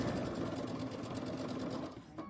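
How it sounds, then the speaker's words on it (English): A sewing machine runs steadily at close range, stitching a quarter-inch seam joining blue and green fabric for a quilt block, a continuous even whir that slows and stops near the end. "But we're just sewing a blue to a green. Using a 1/4 inch seam again."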